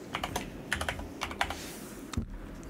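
Keys tapped on a computer keyboard while renaming a folder, a quick irregular run of light clicks, quiet and close, with no talk.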